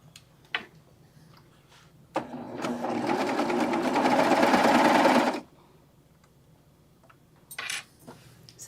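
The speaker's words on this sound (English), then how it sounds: "Because our Baby Lock sergers cut from below" A Baby Lock serger stitches through a quilted jacket, a steady fast mechanical whir running about three seconds between quieter pauses with light clicks and handling noises before and after.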